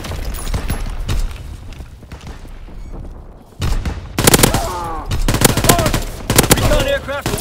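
Call of Duty battle with artillery and gunfire: dense bursts of machine-gun fire and shots, quieter rattling at first, then louder volleys and booms toward the end, with a radio-style voice speaking partway through.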